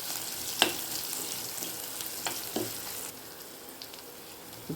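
Onions and curry leaves sauté in a pan for vendakkai pachadi, giving a soft, steady sizzle with a few light stirring taps, fairly quiet and with no voices.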